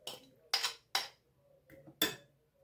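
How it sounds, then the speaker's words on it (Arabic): A spoon stirring an Egyptian spice mixture for a mackerel tray in a large bowl, with four distinct scraping, clinking strokes at an irregular rhythm, close and fairly quiet. "هنقلب كده بقى الاول الخلطه بتاعتنا دي مع بعضها"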